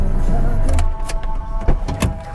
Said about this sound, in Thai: กระจกไฟฟ้านะครับ